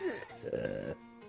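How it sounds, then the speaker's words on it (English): A person lets out one loud, drawn-out burp close up, a low throaty rumble lasting under a second, then a short quiet tail. "I don't know why I'm burping."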